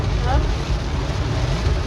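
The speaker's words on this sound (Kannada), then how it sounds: "ಇಲ್ಲಿ ಜೋರು ಮಳೆ ಸ್ಟಾರ್ಟ್ ಆಗಿದೆ" Heavy rain pours down across a roadway, a dense, steady broadband rush with low rumble, continuous and loud throughout.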